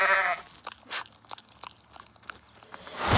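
Goat in the Thor: Love and Thunder trailer, a loud bleat at the start and another at the end, with crunchy chewing sounds between them and no talking.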